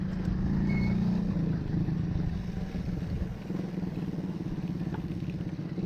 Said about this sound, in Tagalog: Ay, kaso may motor.